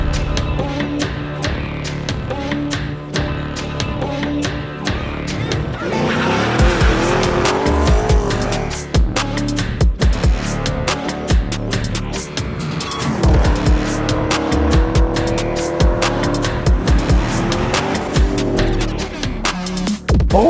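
A Camaro SS 1LE with a 6.2-liter naturally aspirated pushrod V8 making 455 horsepower revs hard and loud, its pitch sweeping up and down over about twenty seconds while the tires squeal and skid.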